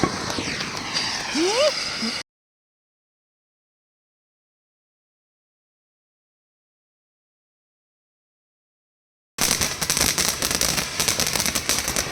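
Fireworks at a Chinese New Year dragon celebration in China crackle and whistle, rising rockets sweeping upward, then a long silence before a dense, loud barrage of bursts resumes.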